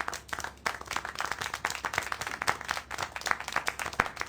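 Scattered clapping in the game Syberia: The World Before, several hands beating sharp irregular claps at moderate distance, continuous throughout with a crisp accent near the end.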